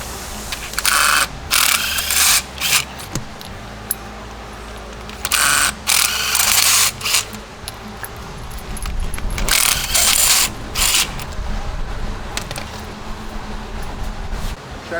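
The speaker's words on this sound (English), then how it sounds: "we're gonna go ahead and get the plugs out." Ratchet clicking in short bursts while spark plugs are removed from a 2019 VW Beetle engine with a 5/8 socket, several loud rapid ratcheting runs separated by pauses and quieter handling noise.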